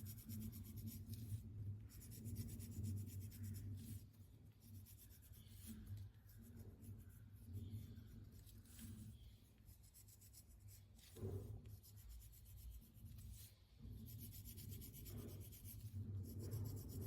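Pencil rubbing and shading on paper for a Zentangle drawing, a faint, close scratchy rasp in repeated short strokes with brief pauses between passes.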